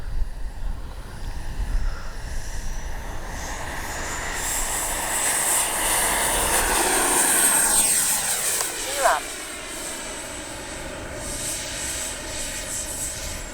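A twin 64mm ducted-fan ARROWS RC F-15 model jet flies past, its high whine rising as it nears and sweeping down in pitch as it passes, then fading to a steady distant hum with faint voices nearby.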